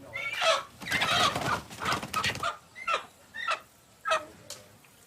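Chickens clucking and squawking at a sacrificial ceremony, a dense burst of bird calls over the first half, then a series of separate short clucks spaced apart, fairly close and moderately loud.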